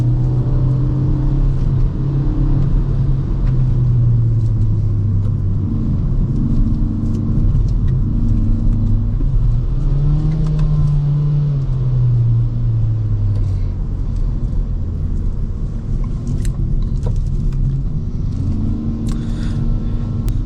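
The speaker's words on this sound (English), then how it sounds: "Wheel spin!" Kia Forte GT sedan accelerating hard with wheel spin, a steady loud engine rumble rising and falling in pitch throughout, close and continuous with no talk over it.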